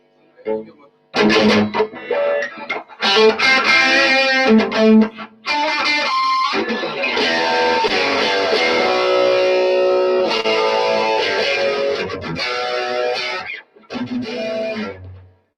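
A distorted electric guitar through a Blackstar HT-5R amplifier plays a lead line with sustained, saturated notes and short pauses, loud and close, with no voices.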